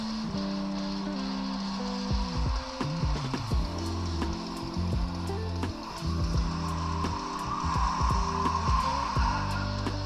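A racing video game with an 86-style car: a steady engine drone climbs and drops through repeated gear changes, with hints of tire squeal from skids over constant game noise.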